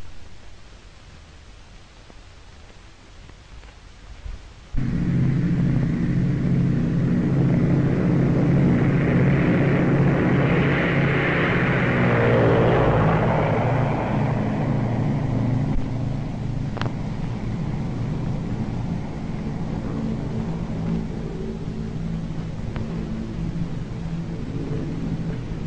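Approaching aircraft in a 1936 film serial: after a few seconds of quiet, a loud, steady engine drone cuts in and holds, swelling and droning on without any talk.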